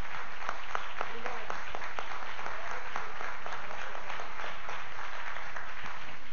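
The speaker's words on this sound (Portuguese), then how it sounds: "Aplauda ao Senhor bem forte, mas aplauda com bastante alegria mesmo." A church congregation claps joyfully and strongly in praise of Jesus, a brisk, continuous round of applause with a voice heard over it.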